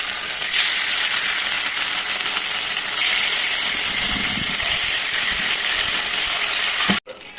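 Anchovies coated for nethili 65, a spiced green fish fry, fry in hot oil with a loud, steady sizzle and crackle that runs unbroken for several seconds, then cuts off abruptly near the end.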